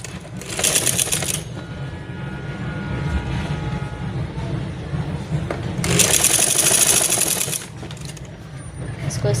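Sewing machine stitching kurti fabric with corded piping, running in two loud bursts of steady whirring separated by a quieter stretch of handling noise, close up.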